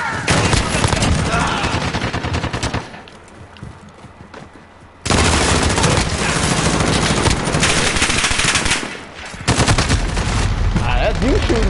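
Sustained automatic gunfire from Call of Duty: Modern Warfare (2019) in a multiplayer match, with dense loud bursts that drop to a quieter lull midway, then resume at full intensity.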